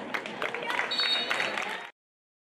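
A school gym crowd cheers and claps for the Lady Panthers volleyball team in Greenbrier, a brief mid-distance swell of applause and shouts that cuts off abruptly.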